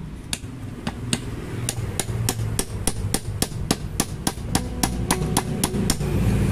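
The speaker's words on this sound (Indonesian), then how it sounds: "kita buka bagian tutupnya dengan menggunakan palu ya" A handleless hammer strikes the cover of a water pump in a steady run of sharp metallic knocks, about three per second, close and fairly loud.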